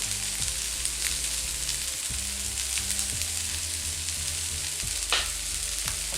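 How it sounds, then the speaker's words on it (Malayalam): A bitter gourd and carrot stir-fry sizzles steadily in a pan while a spoon stirs it, giving a loud continuous frying hiss with periodic scraping strokes, no talking. "ഇനി ഇതിന് ഒരു 2 മിനിറ്റ് നേരത്തേക്ക് കൂടെ ഒന്നുകൂടി ഇളക്കി ഒന്ന് മൂടി വെച്ച് കൊടുക്കാം."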